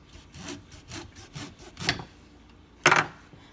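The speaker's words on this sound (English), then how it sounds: "first you're going to shave off this stem or stalk" A serrated kitchen knife saws through the tough stem of an artichoke in quick back-and-forth strokes, about seven rasping pulls followed by one louder, sharper cut near the end, close and without talk.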